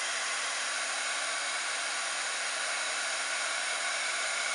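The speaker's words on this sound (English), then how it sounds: "I give my heat gun a chance to heat up." A heat gun blows steadily as it warms up before heating gold embossing powder, a constant loud airy roar with no breaks and no voices.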